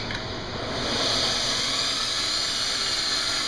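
Surface grinding attachment running on a Bridgeport-type BIII mill, a steady loud hiss and whine of the grinding wheel that holds at even level throughout with no pauses.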